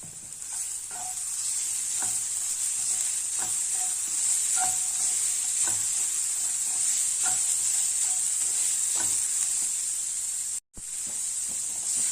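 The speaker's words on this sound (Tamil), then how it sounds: "இப்போ சாதத்தை கிளறிடலாம்" Carrot rice sizzles steadily in a hot pan while a spoon stirs it, giving a constant bright hiss with regular soft scrapes and taps every second or so and one brief dropout near the end; no one speaks.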